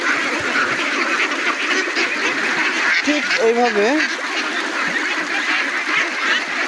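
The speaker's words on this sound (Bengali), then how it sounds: "এই যে হাঁসগুলো দেখতে পাচ্ছেন কি পরিমাণ তারা খাচ্ছে" Ducks quack briefly mid-clip while feeding on water spinach on a farm, a short burst of calls over steady background noise and someone talking.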